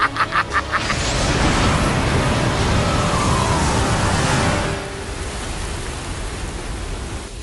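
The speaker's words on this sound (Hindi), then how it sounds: "बारिश तो बहुत बढ़ गई है।" Heavy rain pours down in a storm, a loud, dense, continuous hiss that drops somewhat in level partway through, with a few quick pulsing knocks right at the start.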